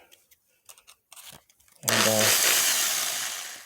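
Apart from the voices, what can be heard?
power drill running on cylinder head porting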